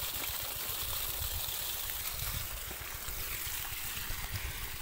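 Water flowing from a newly restored village tap in Nepal, a steady faint rushing and splashing stream running continuously with no break.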